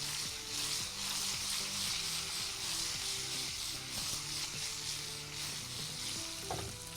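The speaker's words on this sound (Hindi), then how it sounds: "यहाँ पर हमारे पास बैगन जो है वो अच्छे से फ्राई हो रहे हैं, ये देखिए।" White eggplant frying in a pan on a gas hob: a loud, continuous close sizzle and crackle that holds steady throughout, with a faint clink near the end and no talking.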